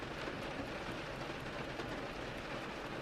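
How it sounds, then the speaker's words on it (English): Steady rain pouring down outdoors, a dense, even hiss of falling water heard from indoors, unbroken and moderately faint for the whole stretch, with no voices. "the rain is rushing down outside"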